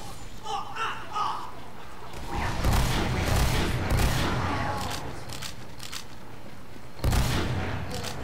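Shotgun fire and explosions in the Team Fortress 2 video game on the 2Fort map: loud, dense bursts of blasts mid-clip, then another sharp burst near the end over constant game noise.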